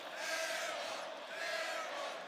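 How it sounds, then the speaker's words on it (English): An arena crowd at the Xfinity Center, during Vermont at Maryland men's basketball, cheers a missed three-point shot: a brief, somewhat distant swell of roaring and whooping with no talk over it. "Xfinity Center crowd enjoying that miss from Cam Gibson"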